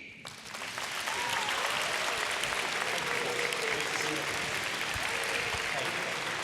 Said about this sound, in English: It is appropriate to applaud when each candidate comes to the stage.